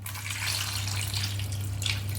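Water runs steadily from a tap while cut lemons are washed in a kitchen for pickle, a close, continuous splashing rush over a low hum.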